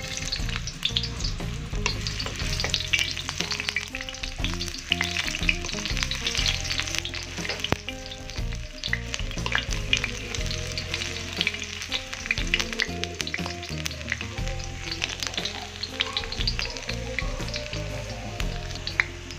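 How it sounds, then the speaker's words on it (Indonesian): Steady, dense sizzling of shallots frying in hot oil, with occasional stirring scrapes, continuous and close throughout. "Kita panaskan minyak. Kita masukkan bawang merah,"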